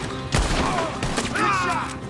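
Red Dead Redemption 2 shootout: several sharp gunshots crack in quick, uneven succession amid the noisy din of the fight, with voices shouting in between.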